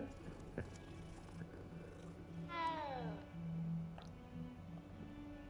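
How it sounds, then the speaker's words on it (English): A cat in the video game Hogwarts Legacy gives a single short, fairly faint meow, rising then falling, over a quiet ambient background with soft footsteps and low room tone. "Oh, there's a kitty!"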